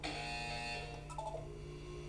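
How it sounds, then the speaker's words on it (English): In the Portal 2 video game a buzzer sounds, a steady electronic tone with a few short blips after it, heard clearly with nobody speaking. "When you hear the buzzer, look down at the floor."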